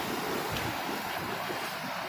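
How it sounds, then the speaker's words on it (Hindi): Water rushes along a diverted channel feeding a water-powered flour mill in Palampur, Himachal Pradesh, after rain, heard as a steady, even, broadband wash with no voices. "अंदर से पानी आ रहा है, उधर से उन्होंने डाइवर्ट किया है वहाँ से इधर"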